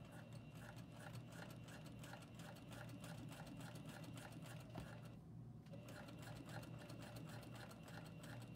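A sewing machine stitches down elastic stretched to the raw edge of fabric while sewing a tee, running in a steady, fast, even rhythm close up, with one brief pause midway and no talking.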